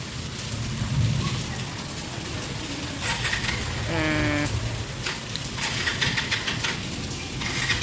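Steady rain falls with a dense hiss and patter, broken by a few clinking drips and faint distant rumbles.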